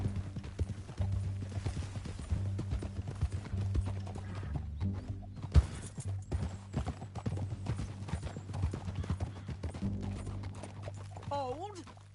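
Horses clip-clop steadily in the Red Dead Redemption 2 video game during a heist, a continuous rhythmic hoof patter under game music and rumble, with a sharp impact midway and a brief whinny near the end.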